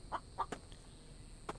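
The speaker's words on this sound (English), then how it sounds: "There's another chicken." A chicken clucking in the survival video game The Infected, a few quick soft clucks in a brief cluster followed by one more cluck, faint and somewhat distant over a steady ambient hiss.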